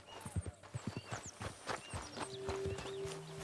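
Hooves of a horse walking in the video game Red Dead Redemption 2 clop in a close, uneven rhythm, then fade into softer steps under a low tonal hum.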